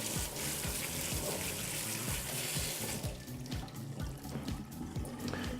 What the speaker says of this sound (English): just give it a quick wash